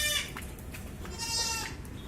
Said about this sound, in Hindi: ये बकरी है इधर बैठी है काली।